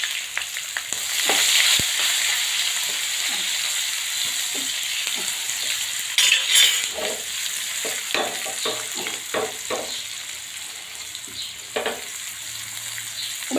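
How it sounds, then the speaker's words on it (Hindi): Onions, green chilies and ginger-garlic paste fry in hot oil in a pan for Hyderabadi khatti toor dal, a steady close sizzle broken by scraping stirs and sharper crackles. "अदरक लहसुन की पेस्ट डाल रही हूँ। दोनों हरी मिर्ची, दोनों प्याज"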